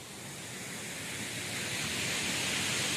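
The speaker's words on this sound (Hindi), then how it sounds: "वो हरे झरना।" Steady, full-bodied rush of falling water from the Kuyemari waterfall at Keshkal, a broad hiss that holds constant and swells slightly louder as it goes, with no voices over it.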